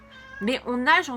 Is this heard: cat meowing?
yes